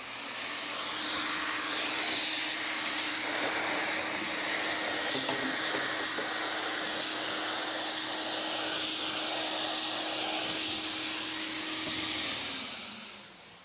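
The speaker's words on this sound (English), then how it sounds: "when I'm spraying my PlastiDip spray" PlastiDip rubber coating hisses steadily from an aerosol spray can onto a car, a continuous loud broadband spray lasting about ten seconds with a low hum beneath, then fading out.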